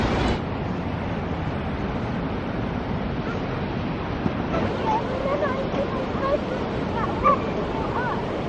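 Atlantic Ocean surf pounds below the cliffs at St Agnes in Cornwall, a continuous roar of breaking waves mixed with gusty wind buffeting the microphone, with faint voices and a brief bark at moments.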